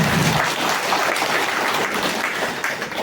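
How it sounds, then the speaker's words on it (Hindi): Loud, dense applause from a large crowd at a political event, steady and energetic throughout with no pauses. "उसके लिए जोरदार तालियां"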